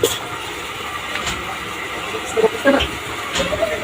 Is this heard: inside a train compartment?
yes